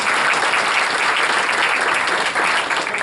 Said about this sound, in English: Before you applaud